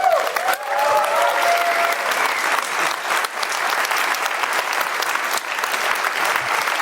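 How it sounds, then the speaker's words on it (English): Sustained, dense applause from an audience at an innovation marathon final presentation, steady and full throughout after a brief announcing voice at the start. "Ladies and gentlemen, a special applause for Mario Fallast and his team."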